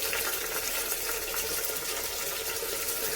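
Vegetables, beans and long-cut carrots, hitting onions frying in a pan give a steady, close hiss and sizzle with soft stirring, unbroken and without talk.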